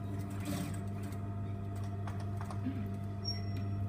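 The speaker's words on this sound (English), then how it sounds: "I'm only going to do 3 or 4 stitches into my back tack and then off I go" A sewing machine runs a short back tack of three or four slightly longer stitches, giving a steady close mechanical whir with a low motor hum and light rapid ticking throughout, with no talking.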